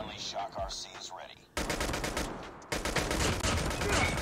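Rapid automatic gunfire in Call of Duty Mobile using an MW11 weapon build, with dense repeated shots that grow louder and more continuous in bursts, mixed with game effects.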